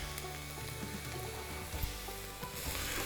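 Garlic sizzling in a pan as the base for Texas chili, a dense continuous frying crackle close up with a few small stirring knocks, no voices.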